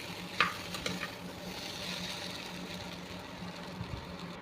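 Chowmein tossed with tomato sauce in a pan gives a soft, steady sizzle with a few faint scrapes of stirring near the start, fairly quiet and continuous.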